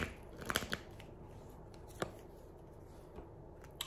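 Tarot cards being shuffled and drawn by hand, a few crisp papery snaps and slides near the start with scattered softer card flicks afterward, close and quiet with no one talking.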